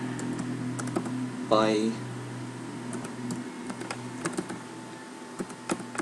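Keys clatter on a computer keyboard as Java code is typed, quick irregular clicks in short bursts, close and clear, with someone talking briefly over the typing.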